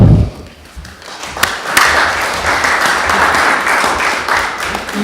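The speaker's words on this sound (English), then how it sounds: "he deserves a round of applause for all the work he's done" Applause at a fisheries and conservation authority meeting, honoring a retiring colleague: a dense, steady patter of many hands clapping in a room, rising quickly after a brief lull and sustained at a fairly loud level.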